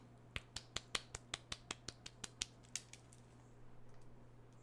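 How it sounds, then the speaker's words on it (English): About fifteen sharp single claps from one person, near and evenly spaced in a steady rhythm that ends after about three seconds, with a faint steady hum underneath. "Slow clap"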